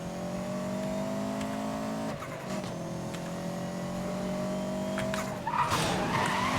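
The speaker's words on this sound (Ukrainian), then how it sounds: "Ось так боком заїжджаємо." A car in Need for Speed: Most Wanted (2012) slides sideways with a long sustained tire skid over a steady engine drone, the squeal dropping away and returning before a harsher scrape near the end.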